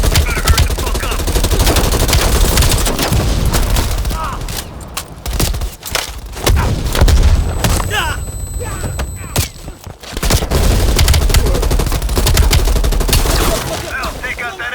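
A heavy machine gun on a ridge pounds out loud, sustained automatic fire in Call of Duty Black Ops Cold War, with explosions and other battle noise, and voices occasionally cut in.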